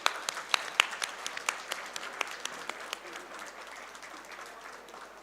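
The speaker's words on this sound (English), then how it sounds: "Let's have a big round of applause, ladies and gentlemen" Applause from an audience at a university convocation, with distinct individual claps near the start giving way to a steadier, softer patter that gradually fades, heard from a moderate distance in a large hall.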